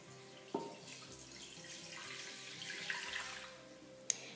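Water runs steadily from a tap into a sink for a few seconds, with a couple of sharp clinks of a container at the start and end.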